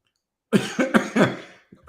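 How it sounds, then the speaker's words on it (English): A person coughs several times in a quick, harsh series, close to the microphone, followed by one more cough after a short pause. "I've got a bad cough right now"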